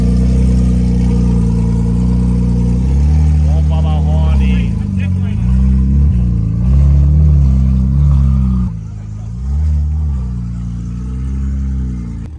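A car engine revs loudly during a burnout, its pitch repeatedly climbing and dropping in long surges while people talk over it.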